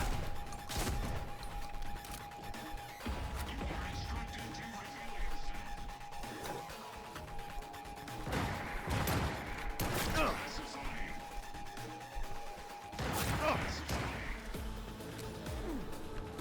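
Gunfire in Cyberpunk 2077 during a combat encounter, with repeated loud bursts of shots and impacts scattered across the clip amid a steady game background hum.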